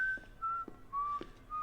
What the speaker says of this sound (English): always whistling, always happy